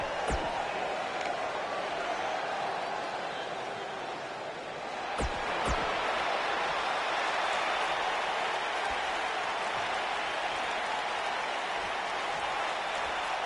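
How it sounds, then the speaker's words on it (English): Steady crowd roar filling a wrestling arena in a WWE video game before a no-disqualification title match, a constant dense buzz with a couple of sharp thumps, no talk over it. "The crowd is buzzing with excitement."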